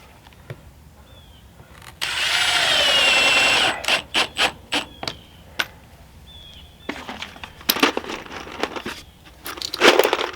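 A power drill fastening siding on a barndominium: a steady whirring burst near the start, then a string of short, sharp drill bursts and clatters at close range with no talk.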